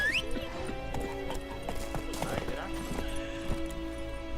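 Roach the horse gallops in Witcher 3, a steady run of hoof clip-clops carrying through game music and ambience, with a voice speaking over it at moments.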